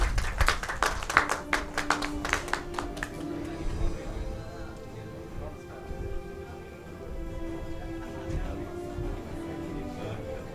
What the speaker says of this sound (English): Can we have a round of applause for a doctor?